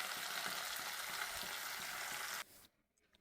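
Hilsa fish pieces fry in hot oil in a steady, dense sizzle that cuts off abruptly near the end, leaving quiet.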